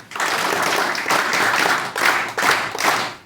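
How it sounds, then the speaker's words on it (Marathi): A classroom of students clapping for a classmate during a guidance session, a close, fairly loud burst of hand claps that pulses in uneven waves and briefly dips twice before fading. "छान टाळ्या वाजवा त्याच्यासाठी"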